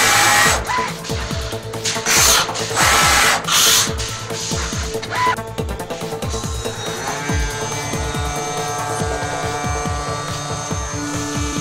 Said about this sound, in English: Drilling a hole will cost 5 seconds.